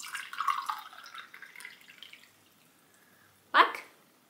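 Water poured out of a glass into another glass, a soft trickling splash that fades out, then a brief sharper gush near the end, faint and close.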